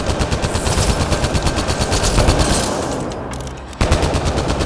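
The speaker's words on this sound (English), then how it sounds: "Oh man, that laser just cooks you" A laser weapon fires in Mass Effect Andromeda, a loud, rapid run of evenly spaced pulses. It pauses briefly, then the rapid burst starts again.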